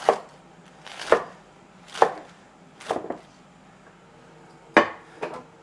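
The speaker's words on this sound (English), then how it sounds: "And I'll just give that a quick chop." Lettuce leaves chopped with a knife on a board, five or six separate crisp thuds with short pauses between them, close and fairly loud, no talking.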